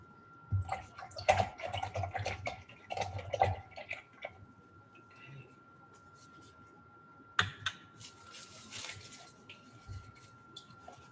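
A paintbrush swished and tapped in a water container, with clicking, splashy bursts in two clusters separated by a quieter stretch, over a thin steady tone.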